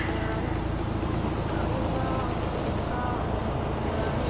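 A loud, continuous Mercedes-AMG A45 engine roar, rumbling steadily and close by throughout in a parking lot.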